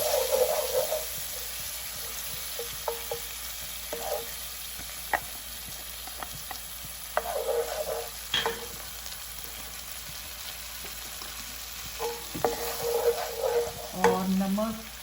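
Masala spices fry and sizzle in a pan. A spoon scrapes and stirs with intermittent clinks over a soft, continuous hiss, all close by.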